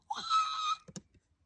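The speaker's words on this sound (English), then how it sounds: "Lady scream." A woman's high-pitched scream sound effect, a single sustained shriek of under a second, loud and clear, followed by a few short faint knocks and a breath.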